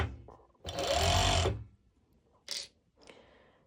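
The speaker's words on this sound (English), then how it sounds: "if you have a cover stitch, you can actually top stitch the front piece" A cover stitch machine top stitches the front piece of ruched leggings fabric in one loud close burst of just under a second, followed by a brief whir and a fainter short run.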